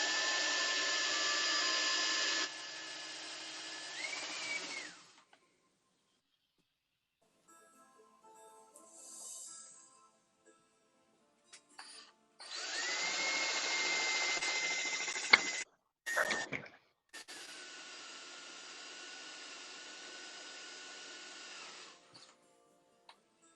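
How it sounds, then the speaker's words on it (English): A power drill bores a couple of holes to make a mounting point for two shoulder bands, whining in several loud bursts of a few seconds each, with quiet gaps and small clicks between them. "What I'm doing right now is drilling a couple of holes to make a mounting point for the two shoulder bands."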